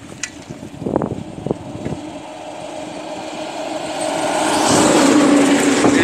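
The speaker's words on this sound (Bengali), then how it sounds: "একটি বাস তীব্র স্পিডে আসছে, তীব্র বেগে, হেডলাইট অন করে দেখা।" A bus bound for Kakdwip speeds along a road near Diamond Harbour with its headlights on, its engine roar rising from a distance and swelling loud and close toward the end after a few sharp knocks.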